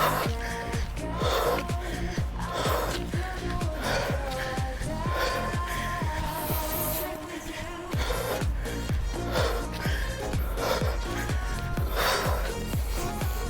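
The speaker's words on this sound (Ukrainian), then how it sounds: "Чуєш, як я дихаю?" Heavy, rhythmic breathing during a standing cardio workout, steady quick inhales through the nose and exhales through the mouth with snorting breaths, repeating throughout over a loud backing of music.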